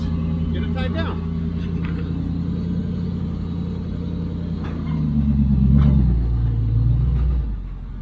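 Willys jeeps are driven onto a gooseneck trailer with a low, steady engine rumble close by. The engine swells briefly as it revs midway, then settles. A voice can be heard over the motor.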